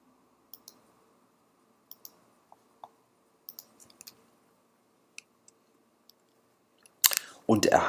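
Computer mouse clicks while navigating to a folder in Cinema 4D software: a dozen sharp, close, sparse clicks at irregular intervals over near silence, then a burst of speech at the end.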